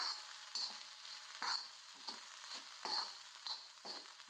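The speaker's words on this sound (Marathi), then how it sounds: "मीठ घालायचं आणि 1-2 मिनिट ह्याला परतून घ्यायचं." Coarse salt pan-roasted on an iron griddle: soft, close scraping and sizzling strokes repeating roughly every half second as the salt is stirred, quiet and alone.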